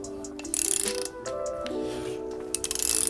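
A torque wrench tightens a Bilstein B16 coilover on a BMW F80 M3, giving rapid ratcheting clicks in short bursts close up, mixed with metallic clinks and a steady tonal hum.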